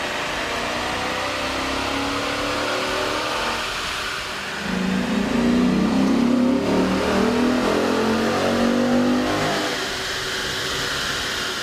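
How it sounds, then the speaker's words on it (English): A Dodge Magnum's 5.7-liter engine fitted with a K&N cold air intake revs hard on a dyno, a loud steady drone that swells into a deeper, stronger roar midway and holds before easing back. "we ran the vehicle on the dyno to test the sound comparison versus the stock intake"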